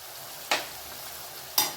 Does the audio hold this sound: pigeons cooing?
no